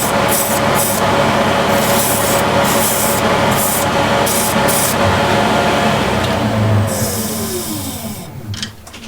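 Sandpaper of 360 grit lightly rubs a turned wooden box spinning on a lathe, repeated bursts of soft hissing scratch over the steady motor hum, with the lathe winding down near the end.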